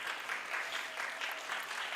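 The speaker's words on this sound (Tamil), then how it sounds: "அவருக்கு ஒரு கைத்தட்டலை கொடுக்கலாம்." Applause from an audience at an American Tamil association poetry competition, greeting the first prize winner; steady, fairly faint clapping with a soft crowd texture and no voices.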